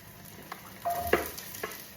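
Something sautes in a pan before onions and tomatoes go in, giving a low, steady sizzle marked by a brief metallic scrape and a few light utensil taps.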